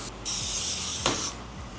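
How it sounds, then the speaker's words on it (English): A steady hiss of silicone cooking spray into a muffin tin lasts about a second, with a brief click partway through. It is close and fairly loud. "We're gonna spray the muffin tin with silicone just to make sure."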